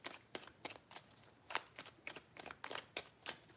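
Tarot cards are shuffled in quick, crisp bursts, a run of short papery riffles repeating at a brisk uneven rhythm, faint and close with no talking.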